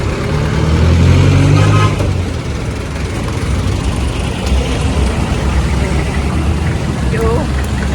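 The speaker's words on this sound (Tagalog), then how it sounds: "pag tumawid ka ng ganito, ang daming sasakyan" Heavy road traffic with many vehicles passing close by, a steady loud roar of engines and tires with a brief toot, while people talk over it.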